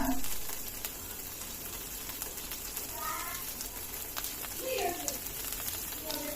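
Onions frying in a pan with green chili paste as poppy seed paste goes in, a steady soft sizzle with brief stirring scrapes, close and moderately loud, no talking over it.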